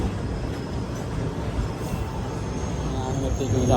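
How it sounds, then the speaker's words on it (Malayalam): A local train rolls into the station with a steady low rumble, getting slightly louder toward the end, and faint voices underneath. "ട്രെയിൻ വന്നു"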